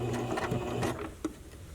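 A sewing machine running a straight stitch along bra channeling around a curve, a quick close mechanical whirring chatter that stops briefly and then ticks once more.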